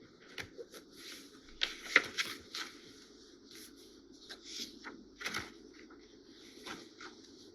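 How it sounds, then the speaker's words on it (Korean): Pages of a book turned while studying in a library, soft papery flips and rustles in irregular bursts, quiet and close over a faint room hum. "공부했던 책 넘기는 소리가 들리고요."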